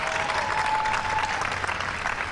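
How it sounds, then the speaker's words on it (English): An audience at a White House astronomy night claps warmly for a young guest named Phoebe, a short, dense burst of applause from many hands, fairly close and full, with a faint steady tone running beneath it. "stand up, Phoebe, so everybody can give you a big round of applause."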